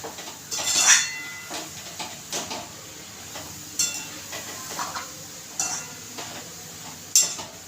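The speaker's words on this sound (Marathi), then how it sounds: "आपल्याला त्याच्यामध्ये तुपामध्ये असं भाजून घ्यायचं शक्यतो जाड कढई घ्यायची" Grated carrots roast in ghee in a heavy kadhai, with repeated metallic scrapes and clinks of a spoon against the pan over a soft low sizzle.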